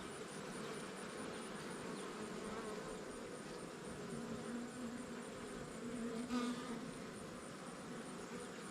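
Honeybees buzz faintly around an outdoor hive, a soft continuous drone with individual bees passing close now and then against quiet background noise.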